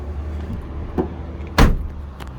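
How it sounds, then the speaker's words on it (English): Doors on a 2020 Mazda BT-50 XT 4x4 Freestyle Cab ute are shut. A faint thud comes first, then one loud, close slam, over a low background rumble. "Close all these doors up for you."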